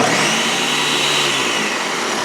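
A blender purees canned carrots with milk, a loud continuous high-pitched whirring motor that holds steady throughout the short clip.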